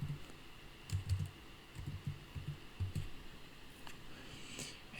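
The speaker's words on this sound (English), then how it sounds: "so we should type in what we're looking for" Someone types a search on a computer keyboard nearby, with quick irregular clusters of soft key clicks and taps over a faint steady hiss, alone without talking.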